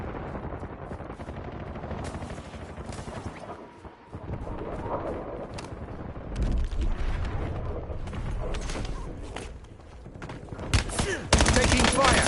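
Gunfire in the Black Ops 7 Warzone game, rattling automatic bursts and distant shots in rapid clusters, growing denser and louder toward the end, with brief radio-style voice callouts mixed in.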